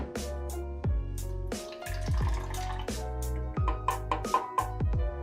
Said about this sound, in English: Now we're going to take this 50 milliliters and pour it into our makeshift calorimeter